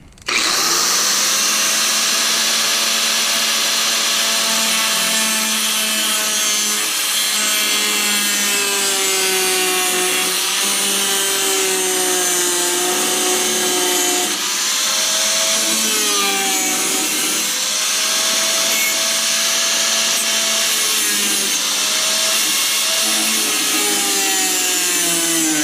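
A power tool cuts the corners off a metal school bus window panel, giving a loud, continuous whine whose pitch rises and falls as the blade bites, held close for a long stretch without pause.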